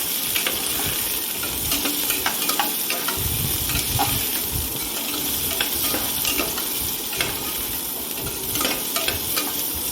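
Onions sauté in hot oil, a dense, steady sizzle filling the scene up close, with light scraping stirs and small clinks scattered through the continuous frying hiss.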